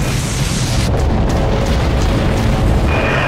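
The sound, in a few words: artillery fire from the video game Dreadnought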